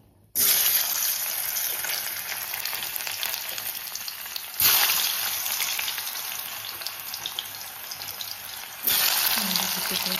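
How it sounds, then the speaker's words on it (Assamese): Potato pieces frying in a pan for a local fish curry, a loud dense hiss of oil that cuts in sharply and surges twice more as more pieces go in, close and continuous with no one talking. "প্ৰথমতে আলু টুকুৰা ফ্ৰাই কৰিলোঁ"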